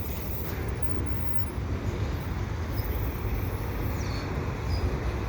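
A CP freight train hauling aluminum auto rack cars, led by three sets of engines, rolls past at Dorval in a continuous heavy rumble and rattle. The sound stays close and steady throughout, with faint high squeals and no talking.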